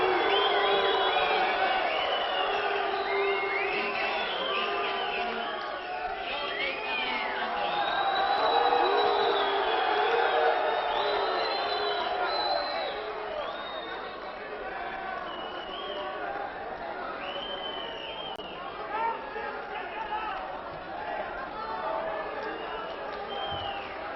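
A wrestling crowd shouting and jeering as Kayser salutes them after a disqualification, a dense, distant roar of many voices with occasional whoops, swelling and then easing off.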